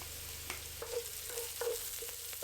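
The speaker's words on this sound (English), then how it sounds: "Cook the garlic for about 30 seconds." Minced garlic and sweet onion fry in a hot pan, a steady close sizzle broken by a few soft utensil scrapes and stirs over two and a half seconds, with no voices.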